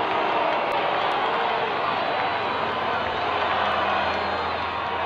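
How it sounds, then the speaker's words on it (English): Massillon crowd at a high school football game roars and cheers in a dense, sustained wash of noise with no letup, the stands filling the whole space. "the Massillon crowd goes wild"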